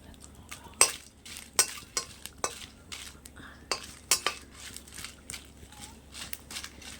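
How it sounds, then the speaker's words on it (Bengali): Chillies frying in a little oil in a pan for a pumpkin-leaf greens dish, with soft sizzling under repeated sharp clinks and scrapes of a utensil stirring against the pan, close by. "এই যে শাকের জন্য লঙ্কাগুলো একটু ভেজে নেব।"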